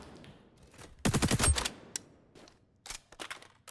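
A short burst of rapid gunfire from a weapon in the shooter game XDefiant cracks out loudly, followed by a few quieter scattered shots and clicks.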